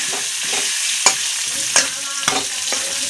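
Potato and papaya pieces fry in hot oil with salt and turmeric, a steady close sizzle broken by a few sharp stirring scrapes of the spatula.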